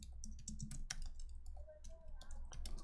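Rapid clicking keystrokes on a computer keyboard, typed in irregular bursts close to the mic over a low steady background hum.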